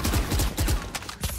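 Shotgun blasts in a GTA roleplay game, several loud booming reports in quick succession, close and dense, with no voices over them.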